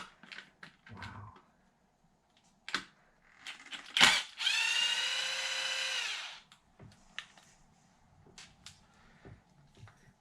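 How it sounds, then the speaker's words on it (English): Electric precision driver unscrewing hardware on an Arrma Kraton 8S RC car, sharp clicks and taps followed by a two-second whirring motor burst, then more scattered small clicks in a quiet room. "These Extreme RC Precision bits, they truly bite into the hardware."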